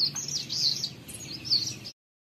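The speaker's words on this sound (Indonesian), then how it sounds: "burung cikra kutub" An Arctic warbler sings high, thin trilling phrases in two bursts over a soft low rumble, then the sound cuts off abruptly.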